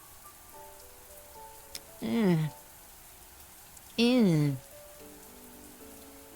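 Rain hits the ground in a visual novel video game as a soft, steady hiss throughout, broken by two brief, loud vocal swoops.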